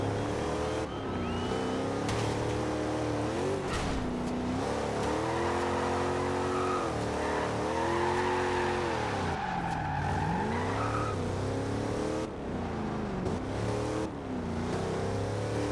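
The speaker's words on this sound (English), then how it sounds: "Doesn't rev that high, but that's not unusual for muscle cars of this era" A classic muscle car in Forza Horizon 2 roars continuously, engine revving up and down through gear changes with tire squeal and skidding, loud and close with no talk.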